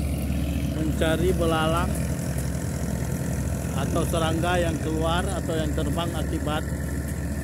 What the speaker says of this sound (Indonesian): mesin grass cutter, mesin Vimax ini berjalan